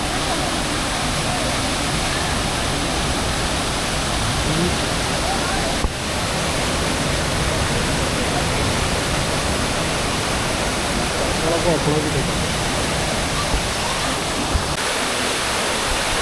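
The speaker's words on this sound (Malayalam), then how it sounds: "ഈ വെള്ളമാണ് ഇവിടെ കൃഷിക്ക് ഉപയോഗിക്കുന്നത് കാവേരിയിൽ നിന്ന് വരുന്ന വെള്ളം" Water from the Kaveri river rushes through an irrigation channel, making a loud, unbroken roar that holds steady throughout with no pauses.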